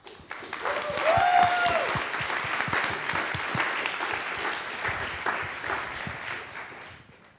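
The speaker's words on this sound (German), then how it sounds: "Einen herzlichen Applaus bitte für die beiden Damen vom iGEM-Team." A science slam audience breaks into loud, sustained applause, dense clapping that swells in the first seconds and then slowly tapers off, with a faint voice briefly heard over it.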